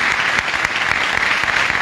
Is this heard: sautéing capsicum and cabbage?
no